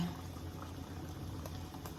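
Hot water pours over Indomie instant noodles in a bowl, a steady bubbling, fizzing liquid sound held close and fairly quiet for a couple of seconds, with no talk.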